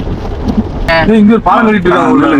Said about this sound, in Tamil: இப்போ சரியான மழை திடீர்னு ஒண்ணுமே தெரியல.